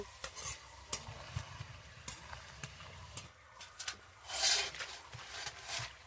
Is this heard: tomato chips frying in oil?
yes